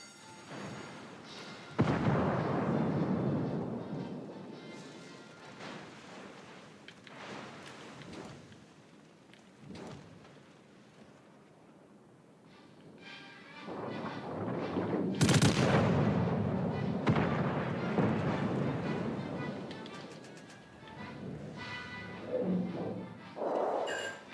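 Ship guns in a naval video game boom in heavy, rumbling salvos, with several loud blasts and rolling thunder-like echoes spread over the stretch and quieter gaps between volleys.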